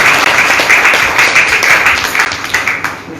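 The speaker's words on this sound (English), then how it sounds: "A round of applause for Mr." Steady audience applause at a technical college old students' donation ceremony, many hands clapping densely and loudly for the full length, tapering slightly near the end.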